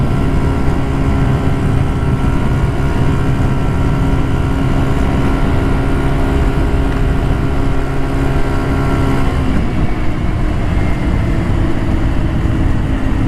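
A GY6 150cc scooter engine runs steadily while riding, with a worn exhaust that is close to falling off; a loud continuous drone with constant harmonics holds for about nine seconds, then the pitch drops and roughens toward the end.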